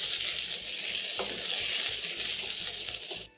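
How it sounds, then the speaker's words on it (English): Chopped onions sizzle steadily in hot oil in a pan, a close, continuous frying hiss with a few soft clinks of a spoon against the pan. "add in onions, saute until the onions have a nice golden brown color"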